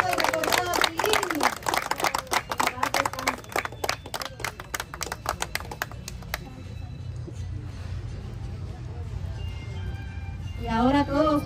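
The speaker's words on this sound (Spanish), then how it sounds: "¡Fuerte el aplauso para nuestro amigo y recordado Tilín!" Crowd applause and cheering for Tilín at a farewell gathering, dense rapid clapping over the first six seconds that fades into murmuring crowd noise, with a voice rising near the end.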